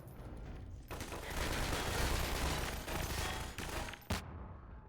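Sustained automatic gunfire in the Half-Life 2 video game, a dense continuous burst of rattling shots lasting several seconds before cutting off, with a last sharp report near the end.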